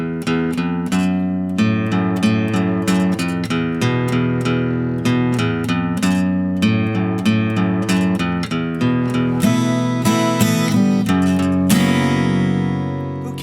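An electric guitar plays the repeating main riff of a song in quick, rhythmic picked notes and chords, steady and fairly loud throughout, with no talking.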